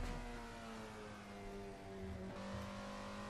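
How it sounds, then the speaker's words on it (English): A high-revving Alfa Romeo 33 Stradale engine in the Assetto Corsa racing game, the pitch climbing and shifting sharply as it accelerates, loud and close. "The sound of that engine, the fast revving nature."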